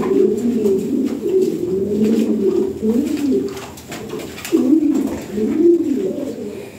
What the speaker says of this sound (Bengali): এ পুতুলের মতো সুন্দর কবুতর।